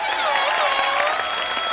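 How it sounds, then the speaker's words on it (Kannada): A studio audience at a televised Kannada comedy stage show applauds the performers in a dense, steady wash of clapping, with voices and some tonal sounds over it. "ಕಿರಿಕ್ ಕಲಾಕಾರರಿಗೆ ಬರ್ಲಿ ಜೋರ ಒಂದ್ ಚಪ್ಪಾಳೆ."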